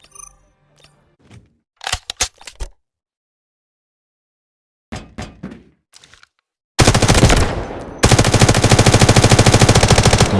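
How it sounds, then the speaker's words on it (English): Weapon fire from the Delta Force shooter game, without attachments: a few scattered shots and short bursts with pauses, then loud, sustained close automatic fire rattling continuously to the end. "Let's shoot with the weapon without these attachments and see what we need."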